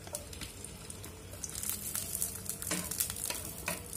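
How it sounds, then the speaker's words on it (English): Garlic cloves crackle and sizzle in hot oil, a quiet, uneven frying spatter with scattered sharper pops that grows slightly busier toward the end, without any talking. "When oil is heating, add garlic cloves,"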